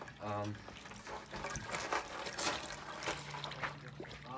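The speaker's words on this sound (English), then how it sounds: "now you gotta get water in this hole here" Water poured through a funnel into the priming hole of a water pump being repaired for pipe leaks, trickling and gurgling in uneven bursts at close range, with talking over it.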